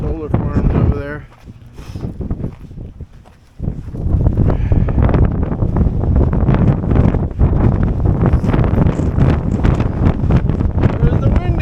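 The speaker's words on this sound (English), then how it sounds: "There's the wind again." Strong gusting wind buffeting the microphone on a mountaintop, loud roaring rumble that eases briefly and then surges back hard, with a voice heard faintly at the start.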